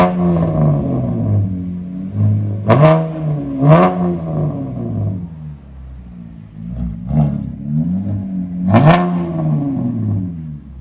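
2019 Chevy Camaro with a 3.6L V6 exhaust fitted with MagnaPacks, idling with a throaty burble and blipped in three sharp revs, two close together and one later, recorded nearby with no talking.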